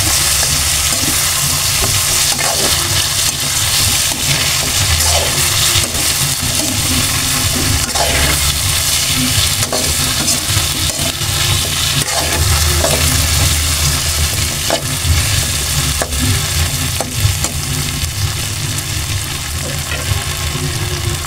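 Chicken feet for adobo fry loudly in a pan with a continuous close hiss and sizzle, broken by repeated scraping stirs at an uneven rhythm.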